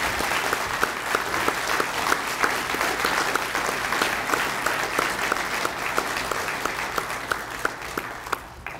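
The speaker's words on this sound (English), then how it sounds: "Congratulations and a round of applause." Sustained applause from an audience at a fire department awards ceremony, a steady dense clatter of many hands clapping throughout, with sharper individual claps standing out near the end.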